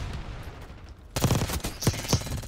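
Gunfire in Black Ops 6 multiplayer, a sudden rapid burst of close automatic shots breaking in after a quieter second, loud and dense with a few distinct heavier cracks.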